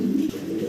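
Helmet pigeon pair giving a short, low, throaty coo, close and steady in a brief snippet with no talking.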